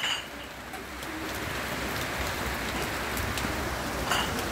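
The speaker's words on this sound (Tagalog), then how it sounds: "Patuloy-tuloy sa pag-ulan hanggang sa mabasa ang lupa." Steady rain patters on a surface as a constant hiss, with faint bird calls drifting in from the distance.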